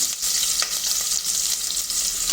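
Chopped onion and green chilli frying in a pan while cooking mint rice, giving a steady loud hiss and crackle of hot oil with faint stirring scrapes, close and continuous without speech.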